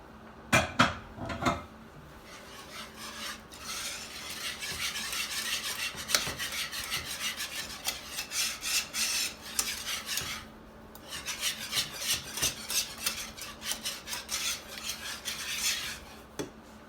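Egg yolks being whisked and scraped into a cheese soufflé base in a bowl, with steady rasping strokes and clinks of utensil against the sides, bursts of brisk stirring separated by brief pauses, fairly close and with no talking.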